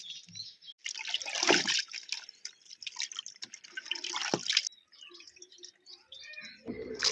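Shrimp shells being washed in water by hand: irregular splashes, drips and trickles, close and fairly quiet, with short pauses between bursts of sloshing.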